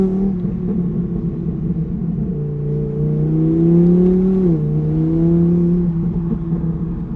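Twin-turbo Audi R8 V10 pulling on a snowy road, a steady loud engine drone heard from inside the car that rises in pitch, dips briefly, then climbs again.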